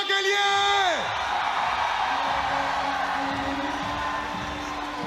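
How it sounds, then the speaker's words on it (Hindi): A boxing arena crowd roars and cheers for boxer Pooja Tomar after her TKO win. A falling whoop opens into a loud, sustained wash of crowd noise. "मतलब तालियों की गड़गड़ाहट पूजा के लिए।"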